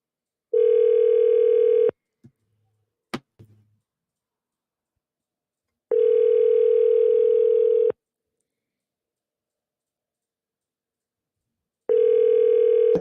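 An outgoing telephone call rings back in the earpiece with long, steady electronic tones of about two seconds each, three bursts separated by silences, plus a couple of brief handset clicks between the first two rings.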